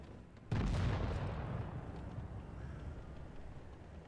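A single loud gunshot from a video game gun cracks out with a heavy boom, then a long fading rumble and reverberant tail.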